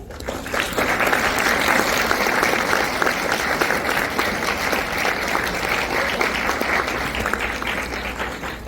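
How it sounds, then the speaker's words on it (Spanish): An audience applauds a speaker at an event, a dense, loud burst of clapping that swells quickly, holds steady for several seconds, then tapers slightly toward the end. "Les pido un aplauso para él."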